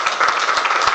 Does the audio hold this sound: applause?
yes